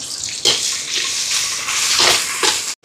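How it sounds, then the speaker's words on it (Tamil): Crushed garlic sizzles as it is sautéed in a pan while food is cooked for a large almsgiving meal in Sri Lanka; a close, steady hiss with a few louder bursts as it is stirred, cutting off abruptly. "உள்ளியை இடித்து வச்சுருக்கிறோம் அதை மட்டும் போட்டு முதல் வதக்கி எடுப்போம்"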